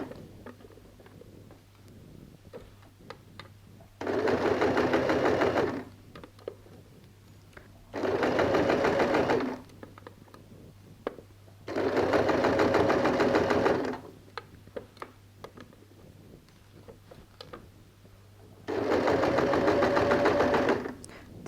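Bias binding being sewn onto a dress on a sewing machine: four separate bursts of fast, even stitching, each a few seconds long, separated by pauses of quiet handling.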